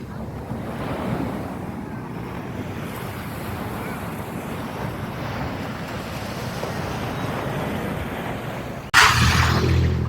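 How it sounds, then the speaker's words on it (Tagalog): Sea waves rolling onto a rocky shore at Agoo, La Union, a continuous loud surf roar with wind buffeting the microphone and a sharp gust near the end, no talking. "Yan ang sound ng dagat."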